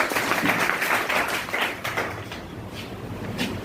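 An audience at a business meeting in Varanasi claps, a dense burst of many hands, loudest at the start and gradually thinning toward the end.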